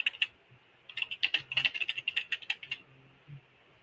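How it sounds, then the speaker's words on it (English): Rapid, uneven clatter of keystrokes on a mechanical gaming keyboard, close and crisp, building into a dense burst before trailing off, with no voices. "Good old mechanical gaming keyboard."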